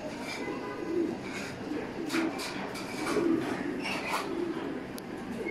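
Giant Hungarian House pigeons, a large imported fancy breed, coo in a steady series of low, rounded calls, four or five distinct coos repeating at moderate volume close by over faint background murmur.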